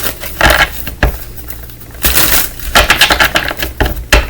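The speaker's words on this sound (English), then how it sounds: "Okay, let me shuffle." Tarot cards being shuffled up close, quick riffling bursts and soft flicking clatter in uneven runs, fairly loud, no speech.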